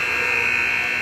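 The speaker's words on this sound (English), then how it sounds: "And that is the buzzer for the end of the second period." A loud, steady electronic buzzer sounds in a high school hockey arena to end the second period of a Stillwater vs White Bear Lake playoff game. It holds one unbroken tone throughout.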